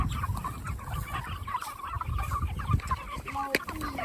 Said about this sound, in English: That's Mia feeding our meat chickens